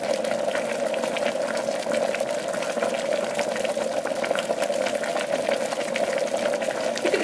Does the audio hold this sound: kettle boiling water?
yes